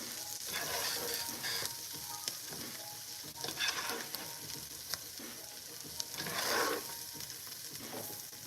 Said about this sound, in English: I was just trying to stir y'all, get the butter, going all the way around.